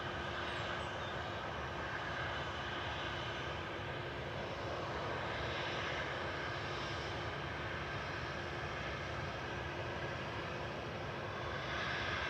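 Aircraft engine roar at Manchester Airport as an EasyJet airliner hurries across the runway ahead of an arriving Aer Lingus ATR 72, a steady broadband rumble and whine holding for about twelve seconds at moderate distance.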